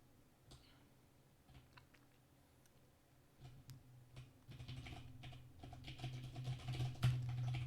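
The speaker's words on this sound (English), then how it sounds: "if the keyboard is super loud and annoying and distracting" Quiet computer keyboard typing during FPGA development work: irregular clicks that are faint at first, then denser and louder toward the end, with a low steady hum underneath.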